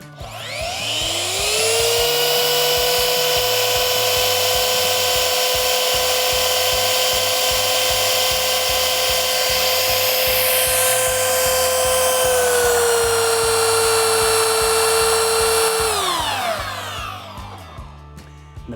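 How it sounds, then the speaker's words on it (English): A belt sander powered by a portable solar generator in 100-degree heat spins up to a loud, steady high-pitched whine, holds for about fifteen seconds, then winds down as the power cuts out. "let's see if this can handle a belt sander"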